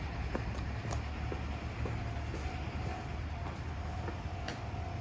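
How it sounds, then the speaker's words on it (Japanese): A train passing a railway crossing in Japan, a steady loud rumble with regular clicking wheel beats repeating throughout and a faint sustained crossing tone, close by. "電車来た。"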